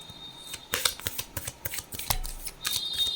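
Angel cards shuffled by hand at close range, a quick series of crisp riffling and slapping flicks in an uneven rhythm, with no talking.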